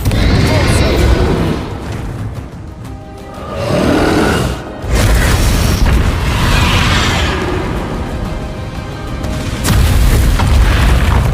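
Confringo explosion spells in Hogwarts Legacy, repeated loud booming blasts with a rushing swell near the middle and a sharp drop-out, dense and continuous over the whole stretch.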